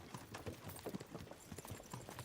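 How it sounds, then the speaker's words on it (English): Horses pulling a cart in Kingdom Come: Deliverance II, their hooves clopping in a steady trotting rhythm, fairly quiet and close, with a soft rumble of movement beneath and no speech. "You say ya and ya, but the horses don't go any faster, sir."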